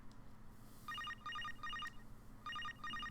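A telephone rings in the Psycho-Pass video game, with repeated bursts of electronic trilling in a steady pattern, three rings then a pause and two more, fairly loud over a low background hum.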